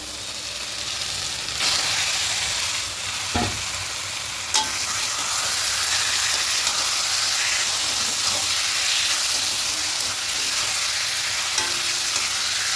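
Marinated chicken sizzles and fries in a pan with ginger garlic paste, a steady loud hiss with occasional stirring scrapes and clatters, no voices.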